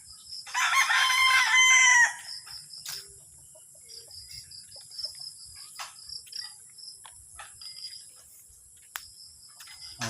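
A fighting cock being raised for cockfighting crows once, loud and close, in a quiet rural yard, followed by steady cricket chirping and occasional faint clicks.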